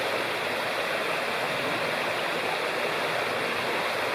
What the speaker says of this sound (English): here's a closer look at the Ball River right beside our campsite.